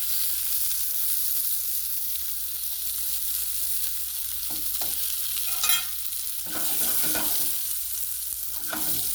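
Baby zucchini and onion sauté in olive oil in a hot, smoking pan, giving a steady close sizzle with occasional stirring scrapes and crackles, no voices.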